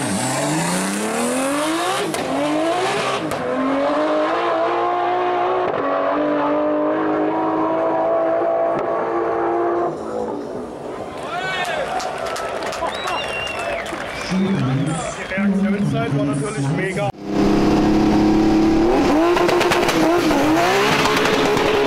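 A VW Polo drag car accelerates down a quarter-mile strip, its engine note rising loudly through the gears, with crowd noise and a second hard launch near the end.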